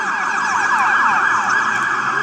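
Wailing emergency siren, loud and continuous, sweeping up and down in a steady repeating pattern with traffic noise underneath and no talk.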